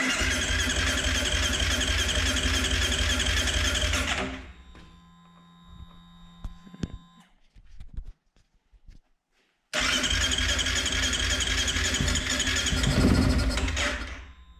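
A 2008 Kawasaki KFX 450R ATV engine, mid-rebuild, roars to life and runs loud for a few seconds, cuts out, sputters through a few weak cranking attempts, then fires again and revs close by.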